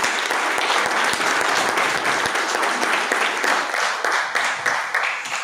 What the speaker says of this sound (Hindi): तालियां बजा सकते हैं यदि समझ में आए।